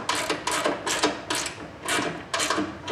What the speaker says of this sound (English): Grab your wrench, tighten it down.